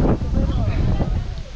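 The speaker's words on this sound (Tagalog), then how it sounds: "Lakas ng hangin." Strong mountain wind on Mt. Batulao buffets the microphone in a loud, continuous low roar.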